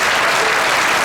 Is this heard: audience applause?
yes